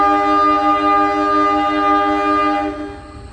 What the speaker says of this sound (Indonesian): Kereta api lokal Garut Cibatuan berangkat dari stasiun Pasir Jengkol.